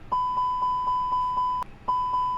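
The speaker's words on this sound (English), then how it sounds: "To have a safe flight, we test the fire alarm system." Fire alarm test in an Airbus A330-900 flight simulator cockpit: a steady, piercing electronic tone that pulses in regular beats, breaks off briefly, then resumes.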